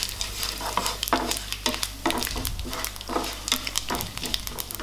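Cumin, fennel seeds and black pepper sauté lightly in a hot pan for a Tamil chickpea kuzhambu, a steady close sizzle broken by repeated scraping stirs and crackles, with no voices.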